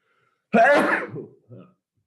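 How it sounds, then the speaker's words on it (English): One sharp sneeze bursts out, followed by a short, softer exhale, with silence before and after. "I need to sneeze."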